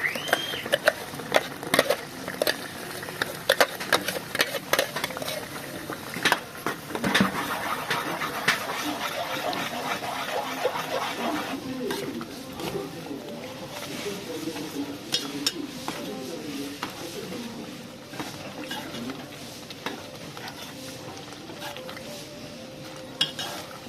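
A ground paste for palak paneer goes into a hot pan and is stirred, with repeated spoon scrapes and clinks against the metal over a soft background sizzle, continuing steadily for a long stretch.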